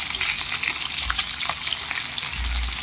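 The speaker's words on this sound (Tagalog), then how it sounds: "Prinito ko muna ang tilapia bago lagyan ng pang lamas." Tilapia fries in a pan of hot oil, giving a steady, close, dense sizzle with faint crackles throughout and no talking.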